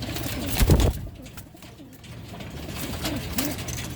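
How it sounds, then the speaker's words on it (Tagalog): Low cooing of racing pigeons rises briefly at the start and again near the end, soft and close, over a rustling, noisy background. "Yan yung mga ibon natin."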